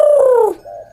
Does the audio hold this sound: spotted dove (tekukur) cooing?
yes